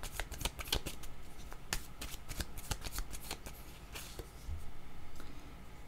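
Oracle cards being shuffled and drawn by hand, a close run of rapid riffling flutters and crisp snaps that come in uneven bursts with no voices.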